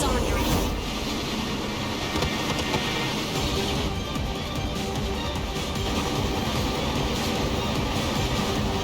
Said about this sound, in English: Looks like a freight train.